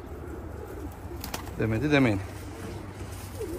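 Van pigeons coo in a loft behind someone talking, one clear rising-and-falling coo standing out briefly over low background murmur.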